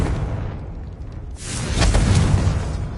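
Confringo fire spell bursting in Hogwarts Legacy: a loud whooshing blast about midway, followed by a sustained roaring rumble with bright crackle over steady background game noise.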